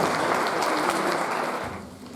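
Dense audience applause fills a school conference hall, a steady wash of many hands clapping that fades slightly toward the end.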